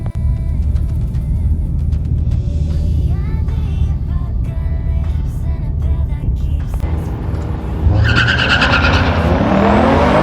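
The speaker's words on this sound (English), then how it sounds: "I'm probably gonna have to do a burnout to heat the tires up" A 2020 Camaro LT1 roars at high revs during a burnout to heat its tires, the engine note holding loud and steady before harsh tire squeal and hiss swell up in the final seconds.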